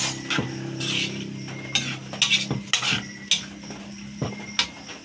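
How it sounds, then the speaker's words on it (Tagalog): A spoon scrapes and clinks against a pan while pancit noodles with dried fish are stirred and mixed, giving irregular close metallic taps and scrapes over a low steady hum. "So, i-mix lang natin ng maayos para ma-mix yung tuyo."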